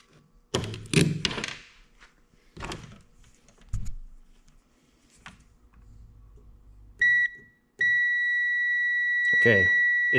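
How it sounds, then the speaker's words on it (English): A multimeter sounds its continuity beep while testing a used Warn winch, a steady electronic tone that starts briefly, stops, then holds on, preceded by thunks and handling noises from the work. "it's beeping, we have continuity"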